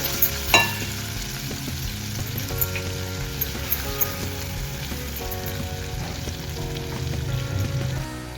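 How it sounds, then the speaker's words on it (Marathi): Chopped onion frying in oil with cumin seeds in a pan for restaurant-style paneer lababdar, a continuous close sizzle with occasional stirring clatter throughout and no voices. "आपण कांदा चांगला मऊ होईपर्यंत आपण भाजून घेऊया"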